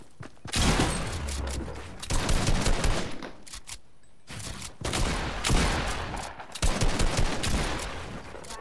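Gunfire in the game Fortnite comes as dense, loud bursts of rapid shots, separated by short quiet gaps and a small mechanical click, with no talking.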